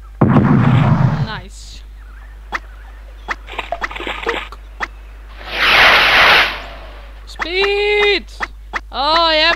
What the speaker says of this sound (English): I didn't know they would explode if I come near them.